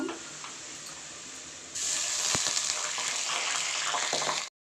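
Chicken pieces added to hot oil with browned onions in a pan, giving a steady broadband sizzle that jumps louder partway through as the meat hits the pan, with a few faint clinks and no talking.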